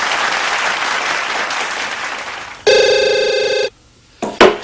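Studio audience applause on a television variety show, a loud steady clapping wash that fades, then is cut off by a sharp ringing telephone bell.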